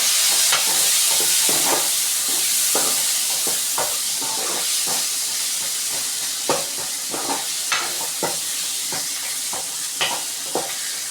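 Tomatoes sautéing in a hot pan, a constant loud sizzle with repeated scraping strokes of stirring at an uneven rhythm.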